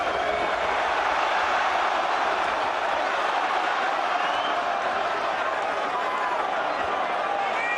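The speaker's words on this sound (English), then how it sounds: "Listen to the crowd here. Thunderous noise reverberating around this arena." A boxing arena crowd roars during the Carl Froch vs Mikkel Kessler rematch of 2013, a thunderous, sustained reverberant wall of noise, with a commentator talking over it.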